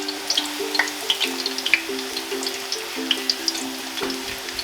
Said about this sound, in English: this way your buñuelo is frying evenly